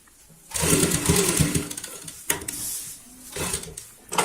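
An electric sewing machine runs close up as it stitches a baby bed sheet, a rapid mechanical whir in two steady bursts separated by a brief stop, with no talking.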